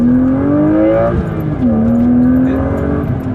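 A modified BMW 328i E36 Sport accelerates hard, its engine note climbing steadily, dipping briefly at a gear change, then rising again, loud and close from inside the car.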